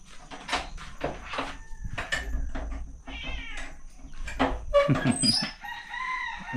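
A rooster crows in a village setting, with short bursts of crowing and clucking among other bird and animal calls, fairly close and alone, without talk.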